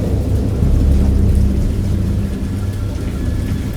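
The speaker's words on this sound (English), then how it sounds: "I heard pearls of thunder and other tones which nature utters only in her wildest moods" A thunderstorm with steady heavy rain and deep rolling thunder rumbling low and close, swelling slightly early on and then holding at a constant level.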